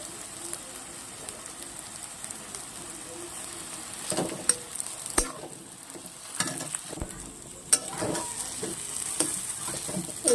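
Potatoes frying in a pan with already-fried onion and chili over low heat, a steady close sizzle with scattered sharp scraping knocks of a spoon stirring through the mixture.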